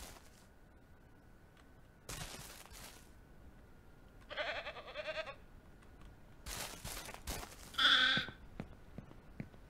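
A male goat bleats twice in the farming video game Ranch Simulator, the cries fairly faint and separated by sharp bursts of other game noise, with no one talking.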